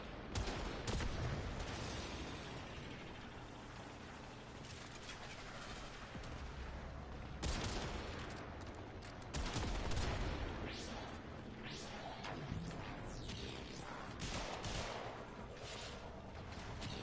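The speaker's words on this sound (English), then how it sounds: "Look at how late those shots are going." Rapid, layered gunfire in the shooter game Warframe crackles almost without pause, dense bursts of shots overlapping at full loudness throughout.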